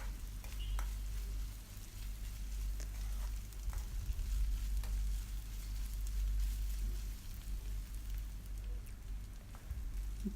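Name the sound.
ginger garlic paste sautéing in a pan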